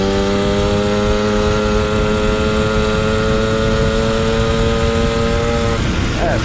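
A moped engine fitted with a racing variator holds a steady high buzzing rev close by for several seconds, then drops off sharply near the end, with strong harmonic whine throughout.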